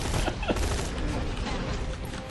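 Rifle fire in the Borderlands 2 video game, a dense run of rapid shots crackling loudly for a couple of seconds amid busy game noise.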